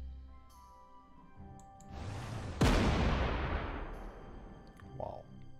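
A Hummel self-propelled artillery gun in Panzer Corps 2 fires a single loud, sharp blast. A long rumbling boom follows and fades over a few seconds, heard alone with no talk.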